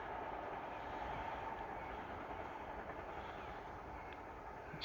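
An Amtrak train climbs the Barnsville grade in Maryland, giving a continuous rolling rumble of wheels on rails heard from trackside at moderate volume.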